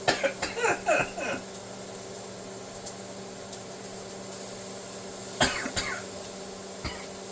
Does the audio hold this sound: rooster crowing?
no